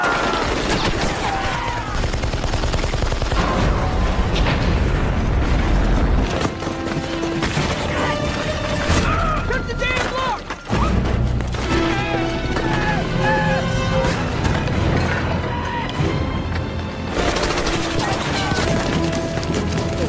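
Battle gunfire in a war film's prison camp rescue scene against Japanese troops, dense continuous volleys of rifle and machine-gun shots mixed with loud mechanical clatter and occasional voices throughout.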